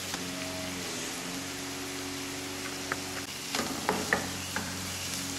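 Food cooking in a pan with balsamic vinegar reducing, a steady soft sizzle and bubbling with a few stirring clinks and scrapes toward the end.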